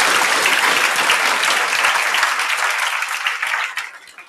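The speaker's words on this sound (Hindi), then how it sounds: "तो एक बार ताली बजाकर सबका एक बार सम्मान करो।" Audience applause for exam toppers at a celebration event, a loud dense wash of many hands clapping that thins out and fades toward the end.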